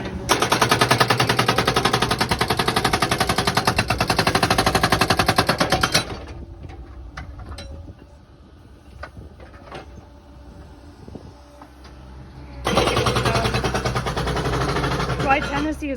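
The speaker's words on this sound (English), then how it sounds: "This is the rock hammer in action." A rock hammer pounds rock while a trench is dug from an electric pole for a septic system in Tennessee, a loud rapid hammering that runs for about six seconds, pauses to quieter site noise, then resumes near the end.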